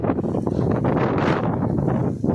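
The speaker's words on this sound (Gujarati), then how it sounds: "પવન બહુ આવે છે" Strong wind buffets the microphone with a loud, steady roar and gusty rumble throughout.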